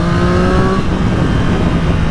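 A 2024 Triumph Street Triple R motorcycle engine revs loudly nearby, a steady high tone that drops off into a rough, rumbling idle, heard without talk.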